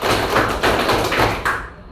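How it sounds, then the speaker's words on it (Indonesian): A classroom of high school students claps together in the rhythmic five-clap pattern, several dull clustered beats in succession, loud and close with a constant room murmur underneath. "tepuk lima, ya"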